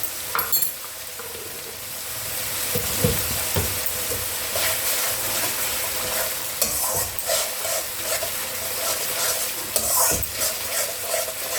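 Ginger paste frying in a pan for tomato chicken, with a continuous close sizzle and intermittent scraping stirs and clinks of the spoon against the pan.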